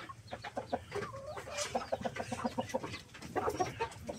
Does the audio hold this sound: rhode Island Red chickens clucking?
yes